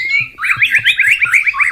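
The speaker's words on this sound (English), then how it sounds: "long segment of Sama Thrush recorded on the Cumuwela Road" White-rumped shama (murai) song recorded along a road near Tokay in 1978: a fast run of repeated looping, slurred whistled phrases, clear and fairly close, with faint low knocking in the background.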